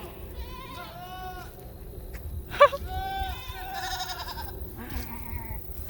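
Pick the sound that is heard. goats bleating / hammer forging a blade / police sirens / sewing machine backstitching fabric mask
goats bleating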